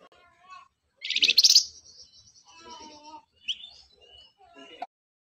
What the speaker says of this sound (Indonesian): Sebaliknya, suara burung flamboyan jantan lebih bervariasi,